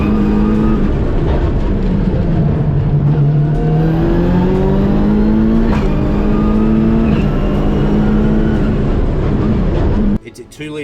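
A 2-litre race car engine runs loud and close, its pitch drifting and climbing through steady revving before cutting off abruptly near the end.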